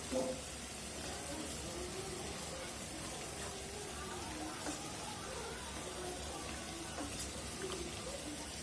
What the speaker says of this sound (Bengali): ভালোভাবে কষাই নিব, নাহলে কাঁচা গন্ধ করবে।